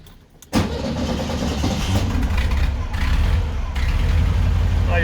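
A Volkswagen Beetle (Fusca) engine with a Chinese distributor is started after a brief quiet moment, catching abruptly and settling into a loud, steady, close idle with a slight cold-engine unevenness, with a voice briefly audible.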